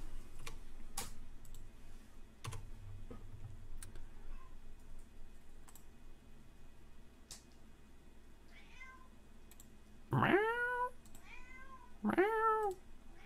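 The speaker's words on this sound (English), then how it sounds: "She's a fine, fine cat." A domestic cat meows twice near the microphone in a home music studio, two short rising-falling calls about two seconds apart after faint clicks and ticks.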